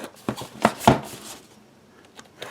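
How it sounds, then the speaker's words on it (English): A handheld unboxing knife cuts the small tabs on a Samsung Galaxy Note 5 box, giving several short, close scraping cuts that cluster together and then fade to quiet handling. "So get my unboxing knife here. Cut the little tabs."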